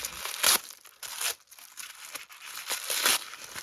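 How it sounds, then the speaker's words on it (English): Blue tissue paper wrapped around a Thomas Wooden Railway toy is torn open in several sharp crinkling, ripping bursts with rustling between them, close and fairly quiet. "you can just see me brutally tearing it open there"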